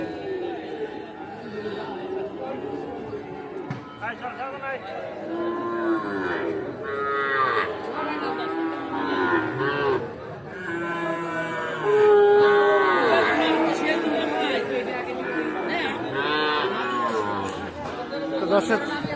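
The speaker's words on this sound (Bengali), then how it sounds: "এই দেখছেন এগুলো কিন্তু ষাঁড় বাচ্চা" Young bull calves and other cattle moo repeatedly at a busy livestock market, long loud lowing calls overlapping one another, with crowd chatter and voices underneath.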